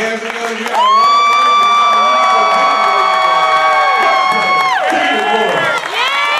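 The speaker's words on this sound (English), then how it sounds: "I need you all to start clapping" Stand-up comedy club audience cheering for a comedian, dominated by a loud, sustained whooping cry held for several seconds over crowd noise, then breaking into shorter shouts, with little distinct clapping.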